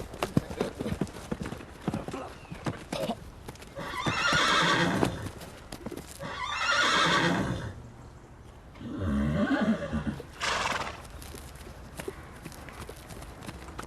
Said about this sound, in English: Some of the horses have got loose up at Top Paddock.